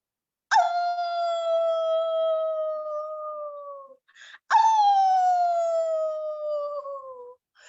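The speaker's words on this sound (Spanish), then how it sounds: "Los perros aullaban." Two long mournful dog howls, each starting sharply then sliding slowly downward in pitch, clear and loud against silence.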